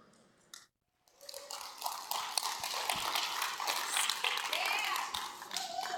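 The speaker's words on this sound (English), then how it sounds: "If you can give us a round of applause to get us started." Audience applause at a conference talk on diversity hiring, a broad, steady patter of many hands clapping that fills the space after a brief quiet gap and continues evenly.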